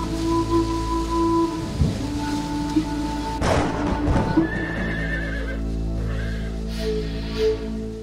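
Kyrgyz horse on a high mountain pasture of the Tian Shan, giving several neighs and whinnies amid clip-clopping hooves, with a steady patter like rain in the background and no talking.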